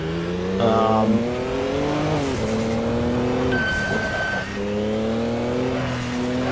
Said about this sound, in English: Those V8 powered prototypes were pretty, especially the Penske's, nice little ear-splitting noise.